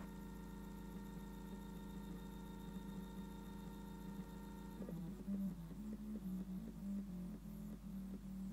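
A 3D printer stepper motor on an A4988 driver whines with steady, close tones, then breaks into a stepped, warbling pitch as its speed ramps down; no voices.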